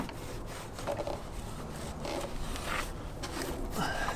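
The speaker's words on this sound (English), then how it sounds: "I'm gonna just take a damp rag actually and wipe it down." A damp rag wiped over a SyKlone snorkel pre-cleaner on an off-road vehicle: steady, close rubbing and scraping strokes, moderately loud, with no talk.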